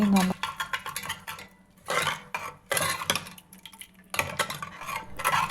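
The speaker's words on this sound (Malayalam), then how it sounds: "ഇതാ കടുകും കൂടി വറുത്ത ഇഞ്ചിയിലേക്ക് ഒഴിക്കുന്നു." Mustard seasoning is poured into fried ginger in a pan and stirred, giving bursts of sizzle and metal spoon scraping against the vessel, close and moderately loud, in three or four separate spells with quieter gaps between.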